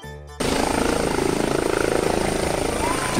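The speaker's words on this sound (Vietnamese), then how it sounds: "Police helicopter." A police helicopter's rotor chops rapidly and steadily overhead in a London street, loud and continuous, after a brief moment of a voice at the start.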